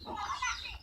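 Young chicken chicks give a brief, faint flurry of high peeping calls, heard alone.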